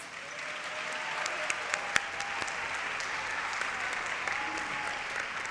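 Fairly quiet, steady applause from an audience at a dual enrollment recognition ceremony, a continuous patter of many hands with a few sharper individual claps standing out near the start.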